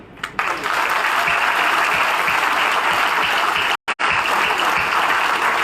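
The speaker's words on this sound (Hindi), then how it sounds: "पूरी ताकत से, बल्कि ज्यादा ताकत से उनके लिए ताली बजाना चाहिए" Loud, sustained applause from a rally audience at a political speech in Rewa, steady and dense throughout with one brief sharp dropout near the end before resuming.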